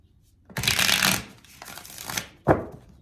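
Tarot cards being shuffled in a few brisk riffling bursts, close and crisp, with short pauses between them and no talking.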